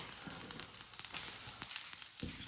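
Asparagus sizzles in a frying pan as it starts to caramelise, with dense steady crackling and small popping spatters, close and moderately loud with no voices.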